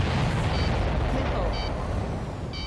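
A missile explosion from the jet combat game Ace Combat 7 rumbles as a loud, sustained low boom beneath game sounds, with short tonal beeps repeating over it.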